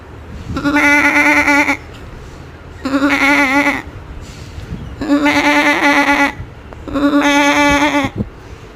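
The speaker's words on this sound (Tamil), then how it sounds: "சூப்பராக ஆட்டுக்குட்டி" A lamb bleats four times in a row, loud and close, each cry lasting about a second with short pauses between.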